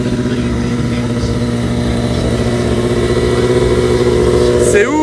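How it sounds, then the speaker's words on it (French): Stunt motorcycle engine at the Santa Pod drag strip in England, a steady loud mid-pitched drone holding throughout with a brief higher rev rising near the end, crowd or voices faintly mixed in. "la moto de stunt, et à côté c'est la bécane de drift"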